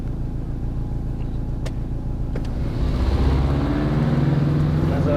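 A 1998 Subaru Impreza WRX STI 22B pulls away from inside the cabin, a steady low engine rumble that builds and grows louder as the car moves off.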